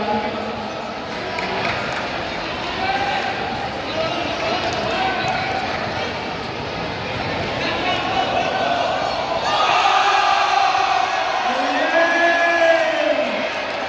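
Crowd at a school basketball game between SDH LV and Springfield International School cheers for SDH LV, a broad sustained roar with whoops and bouncing balls, growing louder toward the end.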